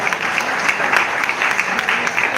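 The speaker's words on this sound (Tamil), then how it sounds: "கைத்தட்டுங்க அருமையான பாட்டு" An audience at a film press meet for the Tamil movie Draupathi 2 bursts into loud, close, sustained applause after praise of a song, the clapping dense and uneven with small surges.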